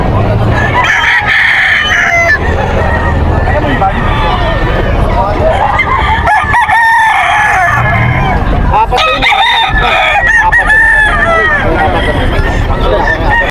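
Gamefowl roosters, including a bullstag offered for sale at a fowl market in Bocaue, Bulacan, crow loudly and repeatedly near at hand, with clucking and a busy hubbub of voices and people talking throughout.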